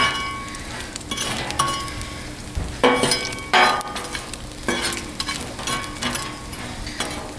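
Smoked pork belly sizzles loudly on a Blackstone griddle as a metal spatula presses and scrapes it, with a steady fry hiss broken by several sharp clinks and scraping strokes.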